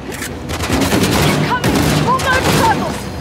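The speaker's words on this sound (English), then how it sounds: "What the fuck's shooting at me?" Gunfire in the video game Uncharted: The Lost Legacy, a loud, dense fusillade of rapid shots and bursts filling the whole stretch, with voices shouting in between.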